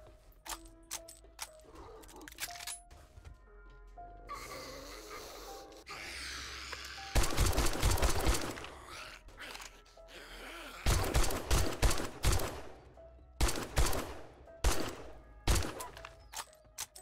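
Bursts of gunfire during a night horde fight in 7 Days to Die, coming in rapid clusters of loud shots separated by brief pauses, with thuds and creature groans between them.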